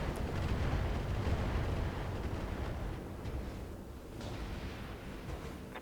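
Weapons fire from a mech pounds a medium military building in the Battletech video game, a sustained rumbling barrage of explosions that eases slightly toward the end, with no voices.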